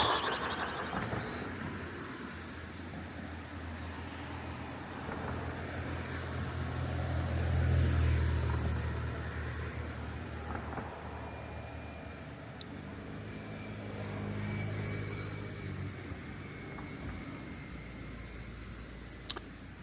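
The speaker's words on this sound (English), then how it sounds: "There's traffic noise here." Highway traffic noise along a road through steep river valleys: a continuous low rumble of passing vehicles, swelling as cars go by at moderate distance, with no talking.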